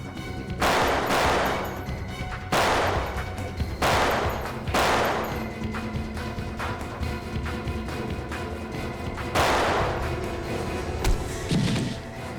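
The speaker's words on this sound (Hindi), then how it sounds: "बहुत हो गई आतिशबाजी।" Several loud, sharp firework bursts crackle and boom at irregular intervals over a dense, continuous rumble of background noise.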